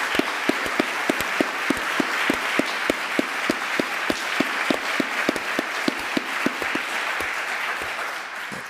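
An audience at a governance panel applauds the panel organizer with sustained clapping and rhythmic claps running through it, fading slightly toward the end.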